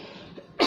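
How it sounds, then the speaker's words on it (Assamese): A single sharp cough from a person with a sore throat, close and loud at the very end after a brief quiet pause. "মোৰ কাহ হৈ গৈছে"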